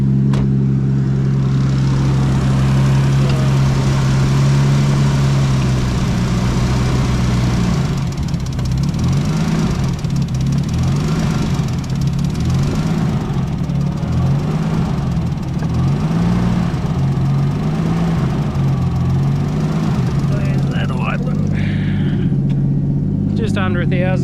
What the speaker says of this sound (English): wind down this idle now